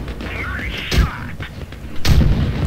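Tank gun shots in World of Tanks Blitz at tier 2, two close booming blasts about a second apart with a thudding low tail, over a game hum and a faint tonal sweep.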